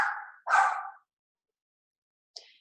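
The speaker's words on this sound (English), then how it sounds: "And sorry if you guys hear my dogs," Pet dogs barking indoors, a couple of sharp barks close together and then a short yip after a silent pause, fairly near and alone.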